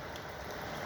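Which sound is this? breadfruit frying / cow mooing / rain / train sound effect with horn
rain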